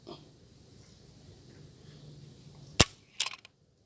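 A Ruger GP100 .357 Magnum revolver dry-fired during a single-action trigger pull test: after a quiet stretch, one sharp hammer click, followed moments later by a softer pair of mechanical clicks, close and isolated with no talk.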